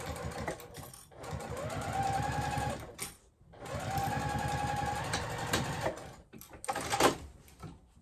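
A sewing machine runs in two long bursts stitching a tote bag seam, a steady close whirring with a brief pause between runs and a few clicks toward the end.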